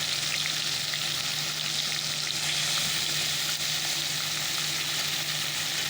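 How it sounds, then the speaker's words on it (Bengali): Chapila fish fry in hot oil with a strong, steady sizzle and crackle, close and continuous, with faint bubbling pops and no talking. "তো চলো আগে চাপিলা মাছটাকেই ভেজে নিই"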